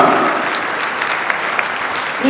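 A congregation at a Christian fellowship gathering in Gangtok, Sikkim, claps to welcome guests from abroad: loud, dense applause from many hands, close and sustained throughout.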